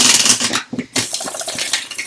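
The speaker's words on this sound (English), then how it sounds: "but I like to give it one last shuffle." A deck of tarot cards gets a fast riffle shuffle, with crisp flapping and clicking close by, a short pause partway through, then lighter tapping as the cards settle.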